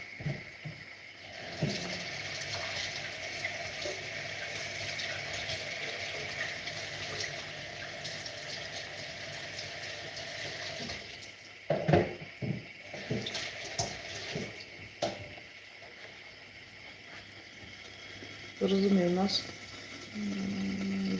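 Eggs washed by hand under a running kitchen tap, a steady rush of water lasting throughout, broken by a few clunks and splashes as the eggs are handled, with a faint voice briefly near the end.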